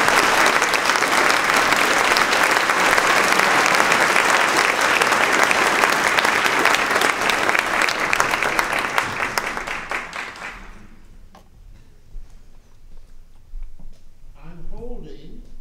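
A theater audience at a high school claps in a loud, dense burst of applause for about ten seconds, then it cuts off sharply, leaving near-silence with a voice beginning to speak at the end.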